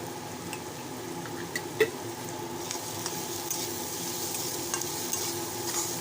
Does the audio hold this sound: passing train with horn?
no